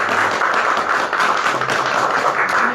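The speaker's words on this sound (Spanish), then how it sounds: "Le damos un aplauso, por favor." Applause from the audience welcoming a guest poet to a poetry event, a loud continuous dense clatter of many hands, steady and close for the whole stretch with no talk over it.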